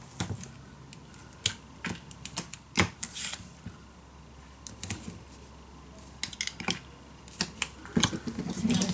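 Scissors snipping the corner of scrapbook paper for a mini album, a scattering of small sharp clicks and snips at close range over a quiet background, no talking.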